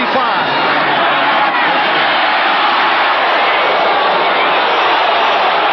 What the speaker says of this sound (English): And the crowd urging the Giant defense on